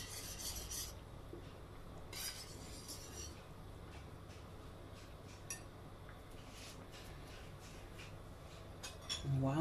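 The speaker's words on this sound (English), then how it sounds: "I'm just stirring my pasta here on the side" Pasta being stirred in a pot for macaroni and cheese gives quiet scraping and clinking of a utensil against the metal, repeated in short, irregular strokes over a soft background hum.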